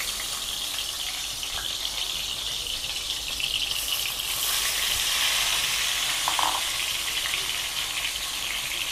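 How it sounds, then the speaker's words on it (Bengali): Brinjals fry in hot mustard oil in a kadai, giving a steady close hiss and sizzle that swells slightly midway and continues without talking. "ভেজে নেব কড়াই দিয়ে"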